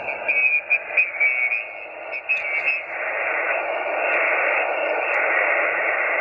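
Band-limited static hisses steadily from a Xiegu G90 radio receiver, with a brief fluttering, wavering tone early on before settling into an even, continuous noise.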